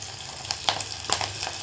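Fenugreek seeds, garlic and green chillies dropped into about 100 grams of hot oil for fish curry with potato and mango, giving a steady close sizzle with a few sharper crackling bursts and no talk.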